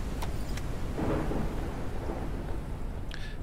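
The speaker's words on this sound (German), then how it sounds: "Der Sturm könnte jetzt auch mal langsam sicher aufhören" Continuous rain and rumbling thunder from a storm in the survival game Forever Skies, a dense steady roar with a few distant cracks, no voices.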